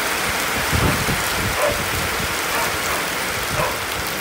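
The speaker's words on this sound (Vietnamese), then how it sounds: "Mưa lớn dữ lắm luôn á." Heavy rain pours steadily near a junction by moored barges, a dense unbroken hiss with a few slightly louder surges and no voices.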